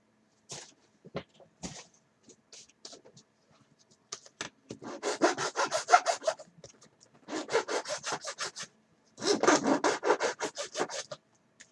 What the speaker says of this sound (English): Take his old mill bastard file and get that excess plastic out there and sand the shape.